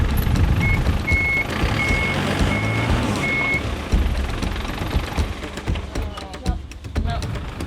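A tow truck reversing toward a bus bogged in mud, its reversing beeper repeating steadily over a loud rumbling diesel engine, with voices talking nearby and engine noise continuing after the beeps stop.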